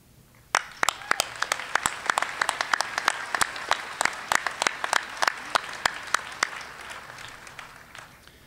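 Audience applause at a 2015 university commencement ceremony: a steady run of distinct, fairly sparse claps from a modest crowd, moderately close and without voices.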